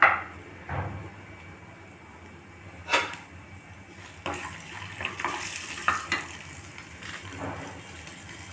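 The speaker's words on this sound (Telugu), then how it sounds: "పోపు దినుసులు వేస్తున్నానండి." Whole tempering spices, dry red chillies and curry leaves crackle and sizzle in hot oil for cabbage chutney, with sharp spitting pops at intervals over a steady frying hiss, close up.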